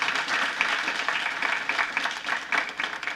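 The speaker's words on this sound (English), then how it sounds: "let's give them a round of applause" A school board meeting audience applauds administrators in a steady, fairly quiet wash of many hands clapping, with no talk over it.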